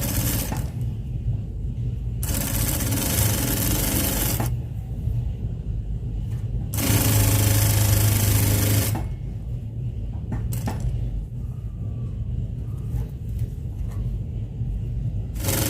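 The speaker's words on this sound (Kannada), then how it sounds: "ನಿಧಾನವಾಗಿ ಇದನ್ನು ಸ್ಟಿಚಿಂಗ್ ಮಾಡ್ಕೋಬೇಕು" Sewing machine stitching a fall onto a saree, a steady, loud mechanical whir running in bursts with short pauses between them, close up and alone.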